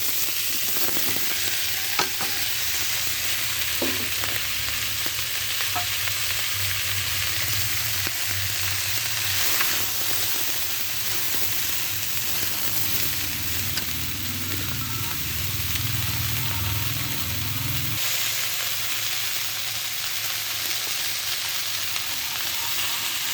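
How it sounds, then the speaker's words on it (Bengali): Taro stalks from a home garden, cooked for a taro stalk and tengra fish curry, fry and sizzle steadily in a pan with occasional stirring scrapes throughout. The hiss stays constant and near, and no one talks. "এই যে কচু শাকের ডাঁটা, বাড়ির কচু শাকের ডাঁটা মানে কচুরমুখী, এগুলো দিয়ে দাও।"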